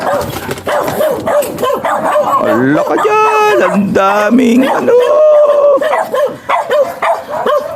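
Dog barks and yips break through continuous speech, with several sharp tonal barks and a brief whimper mid-clip, fairly close but partly masked by talking throughout.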